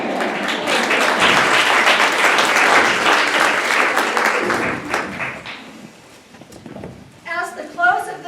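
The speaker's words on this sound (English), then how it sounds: "the close of this performance was greeted by thunderous applause" Loud, dense applause fills a hall at the close of a community club's performance, sustained for several seconds before thinning out, with voices rising near the end.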